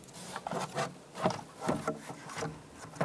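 Intake tube being worked onto the throttle body of a 2013-2016 Dodge Dart 2.4L four-cylinder: repeated close rubbing and scraping squeaks of plastic and rubber in short pushes, quiet, with no talking.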